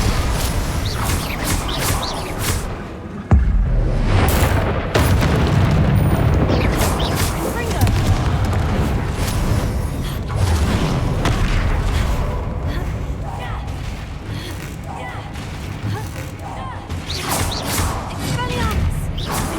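Spell blasts, explosions and combat effects boom and crash continuously in the video game Hogwarts Legacy, loud and dense, with a voice calling out spell names over the action.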